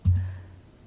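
A single short, close mouse click in Siemens NX software, a sharp tick followed by a brief low thump that fades quickly, heard alone.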